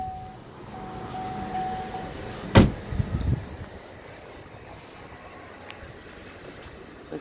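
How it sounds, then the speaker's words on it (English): A single sharp metallic clunk of a 2015 Holden Commodore VF SV6 bonnet latch releasing, followed by a brief rattle, against a quiet low background hum. "We'll just pop the bonnet for you."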